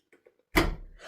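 A door opens on its own in a house, a sudden broad thud and scrape after a few faint knocks, then a lingering rattle fading out.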